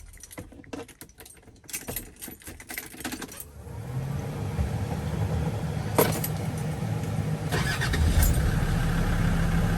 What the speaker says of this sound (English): Starts nicely, nice and warm now.